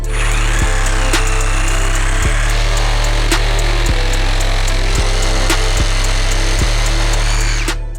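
A Dnipro-M DRS-201BC Compact cordless sabre saw cuts through a block, its motor droning loud and close with a steady buzzing reciprocating rhythm and sharp periodic clicks and knocks as the blade bites.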